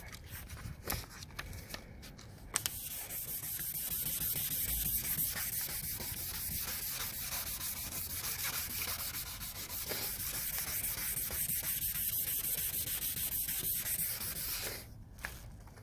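Wet sanding a car headlight lens with 2,000 grit sandpaper: a close, steady rasp of back-and-forth rubbing strokes that runs without pause and without any talk.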